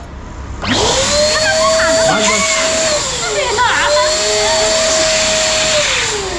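An electric balloon air pump switched on, a loud close whine blowing air that dips in pitch briefly midway and then steadies, running continuously to the end.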